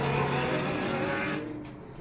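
McLaren race car in an endurance race, its engine roaring loud and steady as it accelerates out of a corner, then fading quickly as it moves away.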